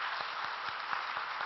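Church congregation at a Sunday service clapping to welcome a visiting guest, a steady wash of many hands with occasional low thumps, continuous and fairly close.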